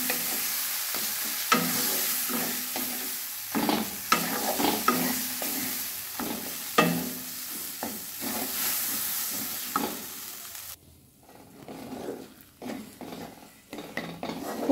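A spiced vegetable burger filling with coriander, cumin and turmeric is stir-fried in a pan: a continuous sizzle under frequent scraping, clattering strokes of a metal spoon, ending in quieter stirring.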